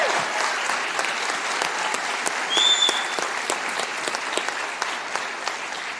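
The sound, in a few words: audience applauding the state wrestling champions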